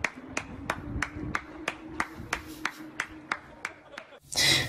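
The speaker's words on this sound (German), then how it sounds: "auf jeden Fall Applaus für die Reporter vom ZDF" A single person clapping slowly and rhythmically, about a dozen sharp claps spaced evenly, close and fairly quiet, with a brief louder burst of crowd applause at the very end.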